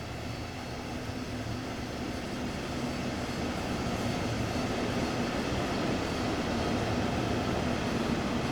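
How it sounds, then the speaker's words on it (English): A steady, loud rumble of a train rolling past continuously at night in the video game Train Sim World 2 on the Ruhr-Sieg Nord route, heard from a rooftop, with broadband roar and no voices. "the sound of the train going past, that's quite good, isn't it?"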